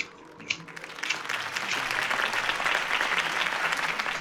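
A crowd applauds after a campaign speech by Harvey Dent in Batman: The Telltale Series, with the clapping swelling in after a brief quiet start and then holding steady.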